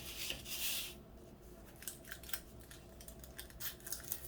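Scissors snip through excess plastic film on a diamond painting canvas, a close, quiet run of short crisp cuts after an initial rustle of handled film.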